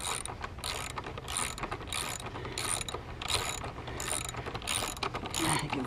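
Ratchet wrench tightening the front axle of a Triumph Tiger motorcycle during tire removal: rapid, close, rhythmic clicking in regular bursts, about two per second, with no talk.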